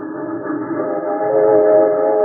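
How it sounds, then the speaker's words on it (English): Trains pass by a railroad yard with a steady, droning rumble, rising slightly as it continues, heard alone with no voices. "With those trains, how can you concentrate on your wax modeling, Scala?"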